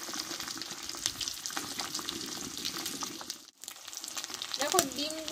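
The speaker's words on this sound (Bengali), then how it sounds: "ডিমটা একটু ভালোভাবে কড়া করে আমি ভাজবো" Eggs fry in hot oil with a dense, continuous crackling sizzle and spattering, broken by a brief lull midway and a few stirring scrapes near the end.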